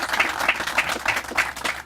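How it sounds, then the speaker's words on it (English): Short burst of audience applause for board members at a trail dedication ceremony, a light patter of clapping from a modest crowd with no talk over it. "just give them a quick round of applause to thank them for their dedication"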